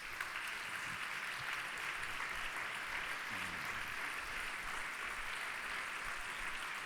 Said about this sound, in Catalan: Un aplaudiment que va venint